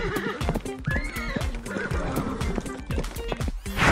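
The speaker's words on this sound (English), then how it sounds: "H for horse." Horse neighing in a children's phonics song, a loud whinny with clip-clop hoofbeats, short and close.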